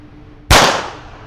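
A single sharp shot from a North American Arms .22 mini revolver cracks loudly and close, then its echo fades quickly.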